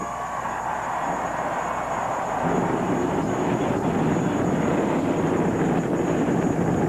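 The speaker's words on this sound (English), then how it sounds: "Drivers, start your engines!" Race car engines fire up together at the start of the 2001 CARQUEST Auto Parts 300 stock car race, a broad roar that swells louder partway through and holds as a steady, dense rumble.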